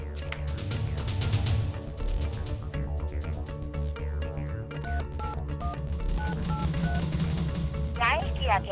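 A series of short telephone dialing tones, evenly spaced beeps, sounding under background music and speech.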